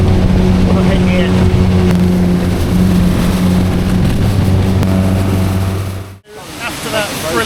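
A boat motoring up a narrow, fast-running river in Colombia, engine drone and rushing water loud and close, steady with a sharp break near the end before the water roar returns.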